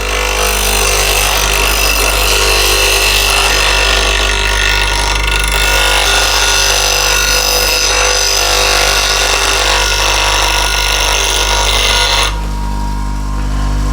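A sharpening wheel grinds a burr onto a woodturning tool edge, a steady loud whirring drone with a continuous gritty hiss that holds evenly for about twelve seconds, then drops to a quieter hum as contact ends.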